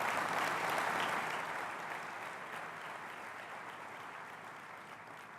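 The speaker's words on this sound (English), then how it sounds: "Let's give them one more round of applause." Applause from a conference audience, a dense steady clapping that starts loud and tapers off slightly while continuing throughout.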